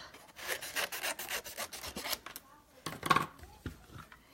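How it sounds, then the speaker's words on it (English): Scissors trimming a small piece of paper cardstock for a birthday card: a rapid series of close, crisp snipping and rubbing strokes, pausing briefly, then a few more cuts. "Oh, I gotta trim him down a little."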